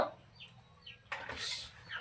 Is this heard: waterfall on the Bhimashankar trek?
no